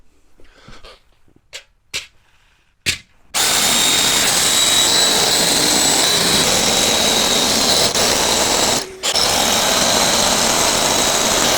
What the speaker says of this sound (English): So 5 holes drilled, they are perfect.